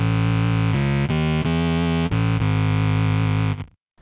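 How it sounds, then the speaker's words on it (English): A thick, buzzy guitar-synth pedal tone of four sawtooth oscillators in unison at the same pitch, playing a short series of sustained notes before cutting off abruptly, loud and alone. "So that's 4 oscillators, 4 sawtooth oscillators at exactly the same pitch."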